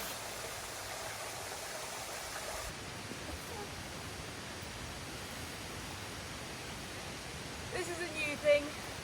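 A large waterfall out of sight around a corner on the Amalfi Coast in January makes a steady, broadband rushing roar that fills the whole clip at a constant level. A few brief louder bumps come near the end.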